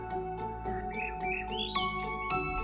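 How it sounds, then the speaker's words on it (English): An unidentified songbird sings in snowy outdoor terrain, a bright melodic phrase of rising whistled notes over a quiet background with faint low rumble, no voices. "I wanted to stop for this bird"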